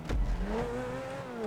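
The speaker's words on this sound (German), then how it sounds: "Ich bin Vollgas durchgefahren." A car in GTA Online driving at full throttle: after a thump, a revving engine drone climbs in pitch and holds steady, moderately loud and close.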